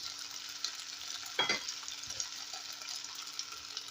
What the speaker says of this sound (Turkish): Şöyle iki tane domatesimizi rendeledim. Onu ekliyoruz.